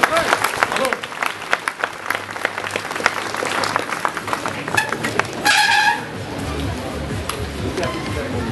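Crowd applause at an elite trial bike final in Clisson as a rider clears an obstacle. Sharp, uneven claps close by are mixed with crowd noise and a commentator's voice, and a brief louder burst comes near the end.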